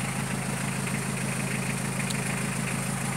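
A car engine idles steadily after being started with a keyless remote, a constant low hum and rumble with no one speaking.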